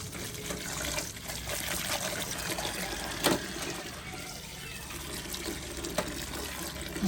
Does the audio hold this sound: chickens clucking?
no